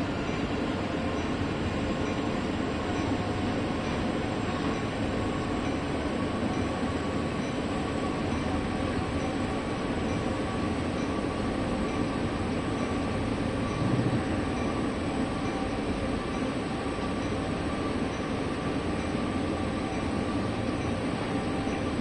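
Simulated freight train descending Sherman Hill in Train Sim World 2 with dynamic and air brakes applied, a steady rumbling roll and wheel noise held at an even level throughout, with no voices.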